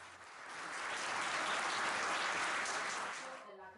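An audience at a police anniversary ceremony breaks into applause that swells into a dense, steady roar of clapping, then fades away over a few seconds.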